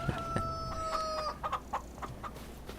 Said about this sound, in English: Yes, you're a big fierce rooster.